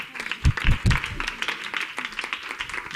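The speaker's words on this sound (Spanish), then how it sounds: "Un aplauso para Salomé." Audience at a meet-and-greet event in A Coruña clapping for a woman named Salomé, a short burst of applause with a few louder claps early on, fairly near, fading into scattered claps.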